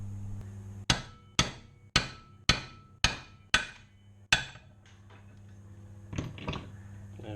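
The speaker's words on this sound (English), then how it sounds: "we're going to do it with the manual impact driver" Seven sharp hammer blows on a manual impact driver loosen a bearing retaining plate on a Kawasaki KLR 650 engine case, struck in a steady rhythm with ringing decays, followed by a few quieter metallic knocks.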